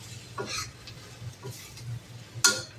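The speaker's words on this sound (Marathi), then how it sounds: "परतून घ्यायचंय छान" Veg kheema being stirred and sautéed in an iron kadhai, with a few soft scraping strokes of a spoon against the pan and a sharper clink near the end, all fairly faint and close.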